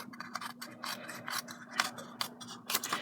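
Scissors cut patterned paper for a handmade mini album, with a steady series of close, crisp snips and paper rustle. No one speaks.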